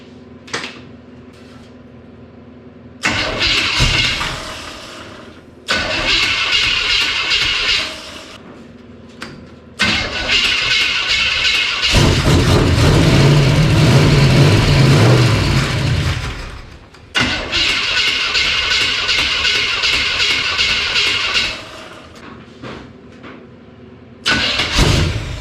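A car with a bad distributor and a busted starter cranks in several long bursts with pauses between them, and an engine roar swells in the middle. The sound is loud and close and plays alone.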